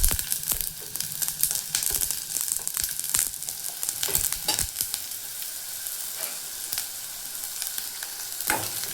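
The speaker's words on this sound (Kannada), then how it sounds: "ಎಣ್ಣೆ ಬಿಸಿ ಆದಮೇಲೆ ಈರುಳ್ಳಿ ಹಾಕ್ಕೊಳತ್ತೇನೆ. ಹಂಗೆ ಬೆಳ್ಳುಳ್ಳಿನೂ ಸೇರಿಸ್ಕೊಳತ್ತೇನೆ." Chopped onion and garlic sizzle in hot oil in a pan, a dense, continuous crackle with sharp pops and occasional stirring scrapes, close and fairly loud, with no talking.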